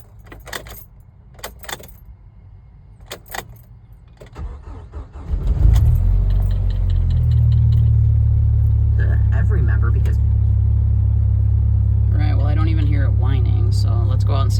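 A 1999 Jeep Wrangler with a newly replaced power steering pump: keys jangle, then the engine cranks and catches, settling into a loud, steady idle, and a person speaks over it near the end.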